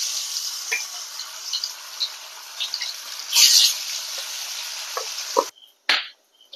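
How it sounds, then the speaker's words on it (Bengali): Paneer fries in hot oil in a wok, giving a steady close hiss and sizzle with a few soft clicks. The sound cuts out briefly near the end, then a couple of utensil knocks follow. "তেল গরম হয়ে গেছে। এবার আমি পনিরটাকে হালকা করে একটু ভেজে নেব।"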